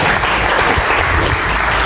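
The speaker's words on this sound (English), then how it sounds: "A good clapping for all." A classroom group claps together for everyone who spoke in a debate session, a dense, even burst of applause filling under two seconds.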